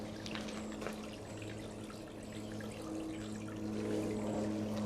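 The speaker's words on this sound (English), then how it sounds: "Just a little creek that runs through here." A small creek running through Stanley Park, British Columbia, a faint, steady trickle and gurgle of water heard from a short distance under a low constant hum.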